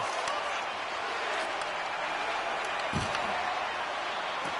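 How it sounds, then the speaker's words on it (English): A video game hockey crowd roars with steady, broadband cheering and applause that holds at a constant level throughout, with a brief low thump near the end, as the final horn ends the game. "And the crowd's on their feet, saluting the team after a hard-fought effort this evening."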